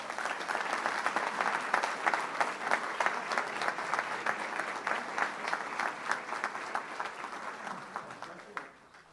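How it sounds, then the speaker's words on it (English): Audience applause at a school board meeting: sustained, dense clapping from a room of people, steady and fairly loud for several seconds before tapering off at the end. "y'all give them a round of applause."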